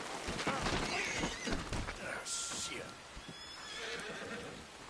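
A horse whinnies loudly up close in Red Dead Redemption 2, a PS4 western game, amid hoof clatter and rainy outdoor ambience, with a voice talking over it.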